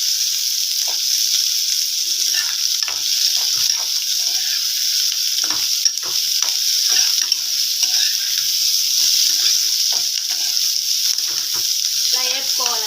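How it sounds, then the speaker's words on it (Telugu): Chopped onion and green chillies sizzle steadily in a hot pan, a constant frying hiss broken by soft stirring scrapes and taps throughout, with no talking. "ఉల్లిపాయ, 2 పచ్చిమిర్చి వేసుకొని కొంచెం ఫ్రై చేసుకోవాలి"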